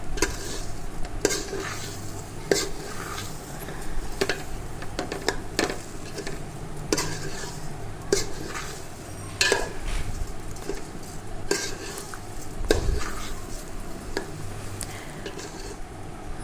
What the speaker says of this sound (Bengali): চালটাকে ওই ঘি আর যা যা দিলাম সেগুলো দিয়ে আমাকে আরেকটু কিন্তু চালটাকে ভাজতে হবে